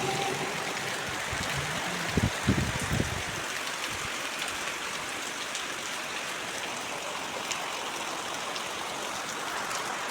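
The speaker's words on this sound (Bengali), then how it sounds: "প্রচণ্ড বৃষ্টি হচ্ছে।" Heavy monsoon-season rain falls steadily and loudly, a dense unbroken wash of drops with a few low thumps near the start and no voices.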